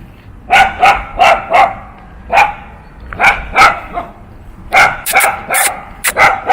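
A small dog barks repeatedly in short bursts and clusters at an old manor estate with ruined columns, the sharp yaps fairly close and loud with brief pauses between volleys.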